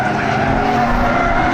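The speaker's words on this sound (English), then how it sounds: "Getting comfortable in the race car." A modified race car drives into a turn at Thompson under yellow, its engine a loud, close, steady roar that holds a constant pitch through the whole short stretch.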